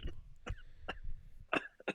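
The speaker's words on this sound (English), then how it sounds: "That has to be the most annoying cough I've ever heard in my life." A series of short, sharp coughs, about six in quick succession, close and fairly loud with brief pauses between them.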